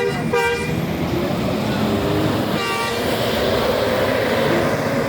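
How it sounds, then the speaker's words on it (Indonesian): A Transport Express Jaya Kudo Gadang Bintang Parma bus pulls out of Balai Solok terminal, loud steady engine and road rumble with two bursts of a multi-tone horn near the start and middle. "Bintang Parma meninggalkan Terminal Balai Solok menuju Jakarta dan sekitarnya."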